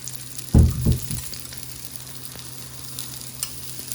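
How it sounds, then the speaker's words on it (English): Onions drop into hot oil in a pan for chorizo eggs, giving a loud burst of sizzling and a couple of stirring scrapes, then a steady, quieter frying hiss. "I'm gonna put some onions in there."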